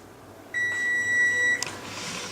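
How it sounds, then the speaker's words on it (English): Kitchen oven alarm timer beeping while a pineapple upside-down cake bakes: a steady electronic tone with bright overtones holds for about a second, then cuts off abruptly into room noise. "my alarm is just about to go off again"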